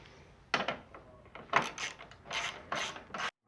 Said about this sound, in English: And then I'm going to go back and tighten the lower plate here.